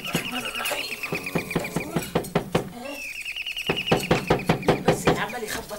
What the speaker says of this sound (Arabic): عمال يخبط علينا كده في وش الفجر وعمال يرزع على الباب